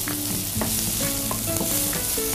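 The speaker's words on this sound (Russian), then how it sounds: "Обжариваем мы, кстати, наш лук на масле приволья." Finely chopped onion fries in oil in a pan at maximum heat, giving a constant close sizzle broken by scraping stirs.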